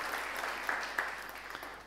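A church congregation applauds for the Lord during a Spanish-language sermon, a steady, dense wash of many hands clapping at moderate distance that holds for the full span with a couple of sharper claps standing out.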